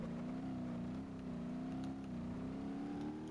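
Monster truck engine in BeamNG.Drive holding a steady loud drone with slight revving swells, continuous throughout with no talk.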